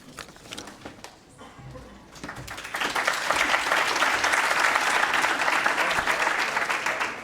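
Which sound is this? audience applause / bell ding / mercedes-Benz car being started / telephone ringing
audience applause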